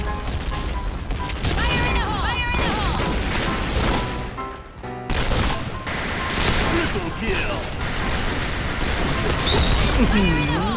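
Explosions and rapid gunfire fill a Point Blank first-person shooter match, with an AN-94 rifle in play. Blasts and shots come loud and dense throughout, under excited shouting from a player.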